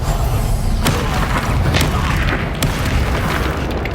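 Explosive Confringo and Bombarda spells from the video game Hogwarts Legacy go off in loud, heavy booms, several blasts in a row over a thick rumbling roar.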